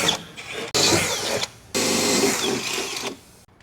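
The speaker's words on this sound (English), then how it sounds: "I'm gonna start drilling." A drill boring mounting holes into an aluminum fender on a Jeep LJ, two sustained grinding, whining runs separated by brief pauses, close and fairly loud, no speech.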